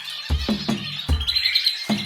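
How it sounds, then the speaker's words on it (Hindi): Birds chirp in a forest, with several quick, fairly close tweets and squeaks arriving in uneven bursts over a steady, hissy background. "चिड़ियों की आवाज हर तरफ थी।"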